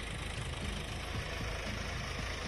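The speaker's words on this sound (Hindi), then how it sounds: "ट्रैक्टर चल रही है" A tractor engine runs steadily on a farm in Sikandrabad tehsil, Bulandshahr, Uttar Pradesh, during a crop harvest under bright sun. It is a constant, close, rumbling drone with no pauses.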